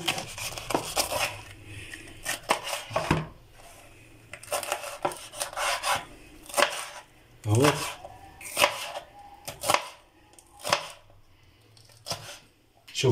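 A knife slices peppers and chili on a cutting board while a fish dish is prepared, giving irregular crisp cuts in short runs, with a person talking throughout.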